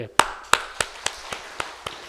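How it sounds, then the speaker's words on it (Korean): Church congregation applauding, a series of sharp, evenly spaced claps that thin out and fade over about two seconds, close and fairly loud. "박수 한번 들읍시다."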